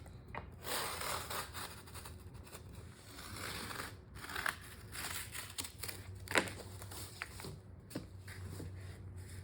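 Thick cardboard, doubled or tripled up for a pantry cabinet, being cut by hand, with scraping, crunching strokes and a few sharp snaps, close by in a quiet room.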